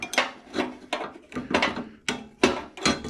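A hand ratchet clicks through about seven quick, close strokes while backing out a spring-tensioned bolt on a Craftsman R1000 30-inch riding mower.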